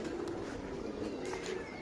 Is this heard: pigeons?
yes